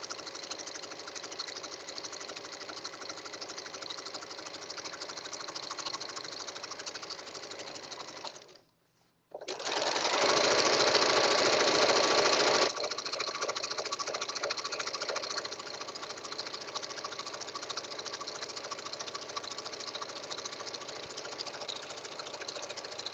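A sewing machine stitches a girl's dress sash in a long, steady mechanical whir. It pauses briefly, then resumes with a louder, faster burst before settling back to an even running hum.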